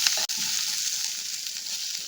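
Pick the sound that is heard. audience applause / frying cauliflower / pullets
frying cauliflower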